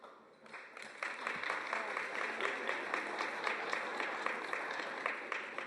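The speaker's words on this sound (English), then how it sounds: "Hold that applause." An audience at a graduation ceremony applauds: quiet scattered claps at first, then sustained, fairly distant clapping from a moderate crowd that holds steady to the end.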